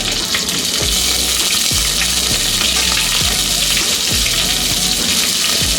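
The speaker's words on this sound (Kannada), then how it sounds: "ಕಡಲೆಬೇಳೆ ಫ್ರೈ ಆದಮೇಲೆ ಇದಕ್ಕೆ 1 ಕಡ್ಡಿಯಷ್ಟು ಕರಿಬೇವನ್ನ ಹಾಕೋತಾ ಇದ್ದೀನಿ" Chana dal fries in hot oil with curry leaves and green chillies, a loud, continuous close sizzle with occasional stirring scrapes in a home kitchen, and no voices.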